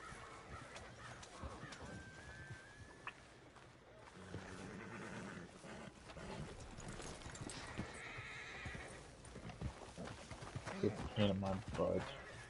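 Horses in Red Dead Redemption 2 clop their hooves and whinny among game sounds and background effects, while people talk over the top throughout.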